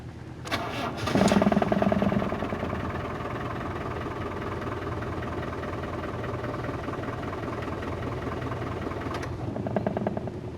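A Land Rover 300 Tdi diesel engine, serviced for a faulty starter relay, cranks briefly and catches, then settles into a steady, close idle rumble with a slight rise near the end.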